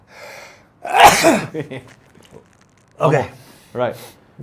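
One sharp, explosive sneeze bursts out near the mic partway through an indoor conversation, while people talk briefly before and after it.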